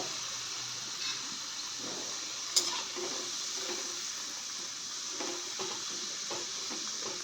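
Pakoda pieces frying in hot oil over a medium flame, a steady soft sizzle and bubbling hiss throughout, with a brief sharp clink partway through and no talking.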